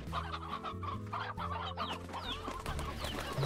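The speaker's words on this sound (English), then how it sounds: "Lots of chicks, too." In the Slime Rancher video game, hens cluck while chicks give thin, rising peeps, a busy layered flock heard over a steady musical bed without talk.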